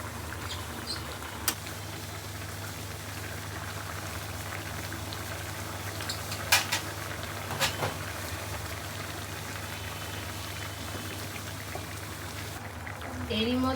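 Mixed vegetables and shrimp simmer in a pot, giving a continuous bubbling boil at moderate loudness. A few sharp clicks break in along the way, with a louder stir or scrape at the end.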